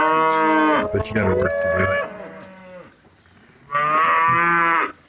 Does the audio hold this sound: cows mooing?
yes